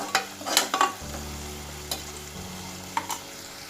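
Sliced onion sautéing in a pan for Kerala mutton roast, a steady sizzle with a few quick spatula scrapes and taps near the start and later, close and clear, without speech.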